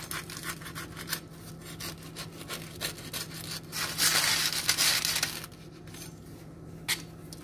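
Crackling, tearing crunch of a crusty, well-baked rustic French baguette being broken open by hand, a brief louder burst of crust cracking in the middle of a quiet, steady room background.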